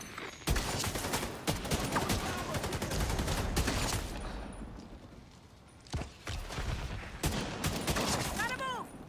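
Sustained bursts of automatic gunfire in The Division 2 rattle rapidly and loudly, pausing briefly near the middle before resuming in several dense volleys, with occasional shouted voices in the mix.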